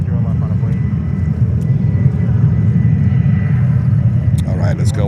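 A Boeing 787-9 Dreamliner jet rumbles steadily at JFK airport, its loud low engine roar continuing throughout as a voice talks over it.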